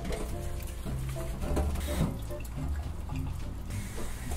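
Brussels sprouts are rinsed under a running kitchen tap, a close, continuous splashing gush of water with shifting tone as the sprouts move in the stream, without talking.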